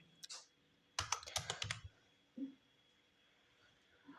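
Keys clack on a computer keyboard while Java code is entered. There is one brief keystroke, then a quick burst of several taps, then a pause and a couple of isolated presses. The typing is close but quiet, with no talking.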